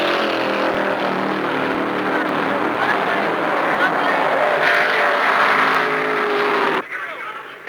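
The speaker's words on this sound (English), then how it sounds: "Down the back chute, it's Allison in front with Bill Dennis in car 90 running second" Stock cars racing in the 1975 Permatex 300, a continuous loud roar of engines from a passing pack that drops off abruptly near the end, under a race commentator's voice.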